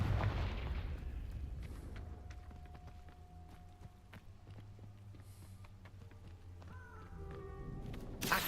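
A Confringo blasting-curse explosion in a Harry Potter video game, a heavy boom opening and another burst near the end, with scattered clicks, impacts and tonal effects in between, moderately loud, no talking.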